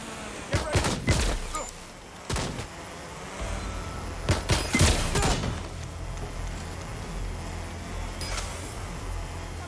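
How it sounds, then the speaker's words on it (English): Gunfire in Watch Dogs: Legion comes as several sharp, separate shots and short bursts spread over about ten seconds, with a low rumble of game ambience underneath and little talk. "I'm taking fire."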